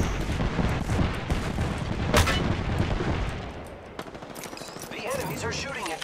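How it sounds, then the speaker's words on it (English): Enemies open fire in the shooter game Fuse, a dense, loud fusillade of rapid shots that rattles on steadily, then thins and drops lower partway through with other game noise around it. "The enemies are shooting at me. Yeah. They're firing on me."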